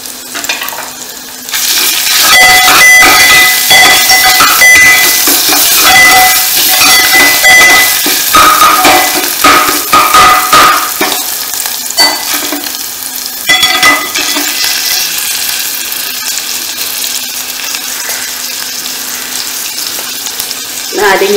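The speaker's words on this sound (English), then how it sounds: "Fry this for 2-3 minutes. Till it smokes nicely to give you the burnt garlic taste." Garlic fries in a hot tadka pan for a Sindhi dal, giving a loud, steady sizzle with occasional stirring scrapes and crackles that continue without a break.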